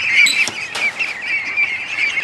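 Ducklings packed into a crowded pen keep up a loud, steady stream of high-pitched peeping calls, close by, with a couple of brief knocks in the background.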